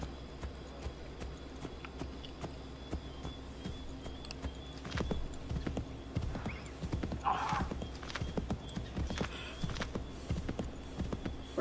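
Horse hooves clip-clop steadily at a walk, and a whinny rises midway, in the video game Assassin's Creed 3, set against a low, constant game ambience.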